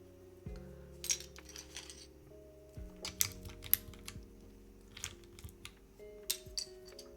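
Keycaps handled during a Hand Engineering 2000 mini keyboard build: scattered plastic clicks and light clinks, irregular and close, over a quiet background with a faint electronic hum.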